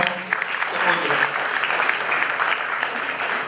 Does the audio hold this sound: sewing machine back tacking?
no